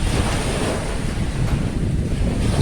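Sea waves washing onto a beach, a continuous loud surf roar mixed with heavy wind buffeting on the microphone, with no voices.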